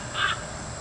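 A Halloween crow decoration set on a DIY column caws once, a short electronic squawk standing out near and fairly loud over a steady background hiss.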